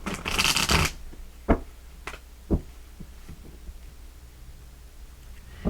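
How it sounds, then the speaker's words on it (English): A quick riffle of Zombie Tarot cards shuffling opens the clip, followed by a few soft taps and knocks as the deck is handled in a quiet room. "let's go ahead and shuffle up these cards"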